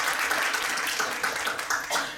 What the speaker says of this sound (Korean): 저희 큰 박수 부탁드립니다.